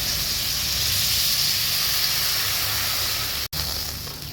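Water goes into a hot pan for a ridge gourd, potato and rohu fish curry, setting off a loud, steady, close hiss of steam and sizzle that carries on throughout with one brief break near the end.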